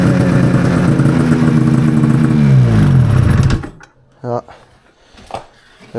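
A dirt bike engine, just back from carburetor work, runs loud and steady for about three and a half seconds with its pitch sweeping as it revs, then cuts off, leaving a few faint knocks and rustles.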